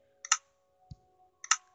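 Two crisp clicks a little over a second apart, with a faint soft tap between them, close and fairly quiet in a still room.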